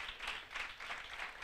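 Congregation applauding during a church service, a steady wash of many hands clapping at moderate distance with no voices over it.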